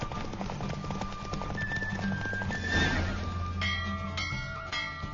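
In The Witcher video game, a horse gallops in a race with rhythmic hoofbeats under music, and a whinny rises partway through. The sound is moderately loud and close.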